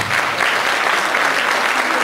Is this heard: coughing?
no